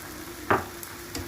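Carrot halwa frying in ghee gives a brief, close sizzle burst with a stir midway, then low background crackle and a faint second stir near the end.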